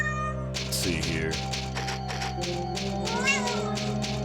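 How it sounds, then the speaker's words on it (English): Meowing sounds play in a loop over a steady electronic hum in a Resident Evil 2 game session, several drawn-out mewing cries in a row, close and clear. "Thank you very much for the cat noises."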